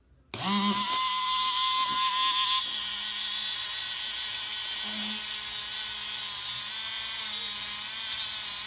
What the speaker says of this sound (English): This is just like a hard grinding disc that you can get with your craft drills